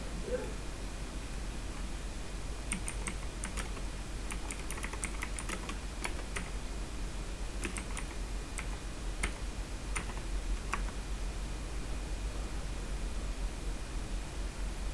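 Keyboard keys clatter in uneven bursts of typing as commands are entered into Packet Tracer switch configuration software, close and fairly quiet over a steady background hiss, with no talk.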